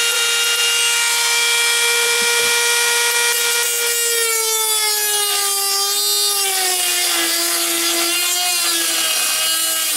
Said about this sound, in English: There's a slight clearance issue with these mounting holes, and I'm going to put on some safety glasses. I got the carbide cutting bit.